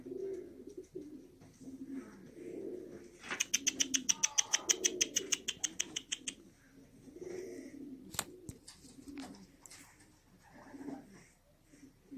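A pigeon coos softly in a few repeated low phrases, with rapid chirping and clicking layered over the middle of the clip.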